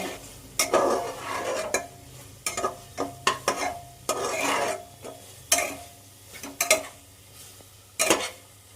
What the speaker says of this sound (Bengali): আমার ঢাকনাটা সরিয়ে আমি আলুটা নেড়ে নেব দেখো